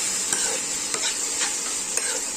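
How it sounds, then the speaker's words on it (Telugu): Chopped tomatoes with mint and coriander stirred in hot oil, a continuous close sizzle with a few soft scraping strokes of the spoon, no voices. "దాంట్లోనే పుదీనా, కొత్తిమీర 2 వేసుకొని బాగా మిక్స్ చేసి కలుపుకుందాము"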